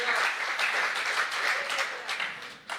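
Congregation applauding during a Spanish-language Bible study on Romans, a dense, sustained patter of many hands that holds steady, then thins and breaks off near the end with a last sharp clap.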